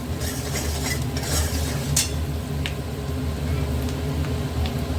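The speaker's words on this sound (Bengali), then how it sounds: "এই যে এবার মেশাবো আমরা এর ভেতর কচুটা।" A spoon mixes taro stolons into cooked spice masala in a pan, with continuous soft stirring and a low sizzle under it, punctuated by a few light metallic taps.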